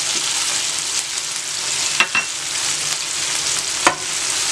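Onions and green chillies frying in a pan for a tawa omelette with tomatoes, a loud steady close sizzle carrying on throughout, broken by two or three sharp clicks of a utensil against the pan.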